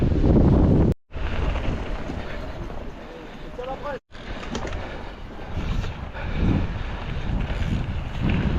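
Wind buffets the microphone in a steady broadband rush during a mountain bike ride in Aramon, Gard, with two brief dropouts, and faint indistinct sounds underneath.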